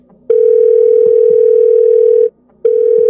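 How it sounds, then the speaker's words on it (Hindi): A phone call being placed produces a steady, loud electronic tone that holds for about two seconds, pauses briefly, then starts again, with no talking over it. "लिप्सा ने अपना फोन देखा, फिर टिया को कॉल किया।"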